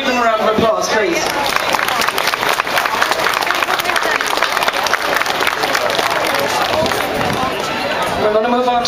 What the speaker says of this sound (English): Can you give them a round of applause, please?